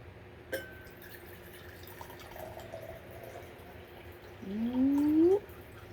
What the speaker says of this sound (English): we're just going to pour this glass of water into our empty one